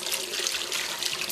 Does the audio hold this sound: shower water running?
yes